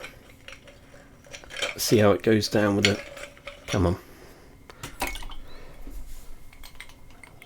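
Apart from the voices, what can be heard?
ice cube dropped into a glass of bourbon, clinking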